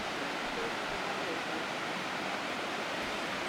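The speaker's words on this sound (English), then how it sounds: "this place called Rötle, with its waterfall and the harbor, is amazing." A steady wash of falling water from a waterfall at Rötle harbor in Sweden, a broad even rush heard at moderate distance with no other sounds standing out.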